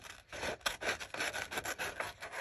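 An altered playing card being trimmed for a journal embellishment, heard up close as a continuous dry rasping and scraping in uneven strokes, with no talking.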